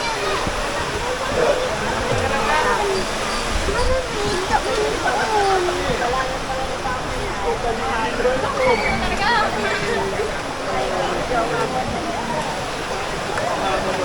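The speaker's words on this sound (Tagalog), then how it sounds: "ito yung ilog dito sa Matakong." The San Lorenzo river at Matakong rushes steadily and loudly throughout, with voices talking over the constant flow of water.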